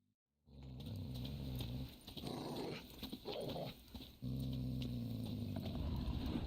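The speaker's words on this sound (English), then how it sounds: "Just beware of the dogs." Dogs in The Witcher 3 video game growl low and continuously, a near, rumbling snarl that breaks briefly into whimpering noises before settling back into a steady growl.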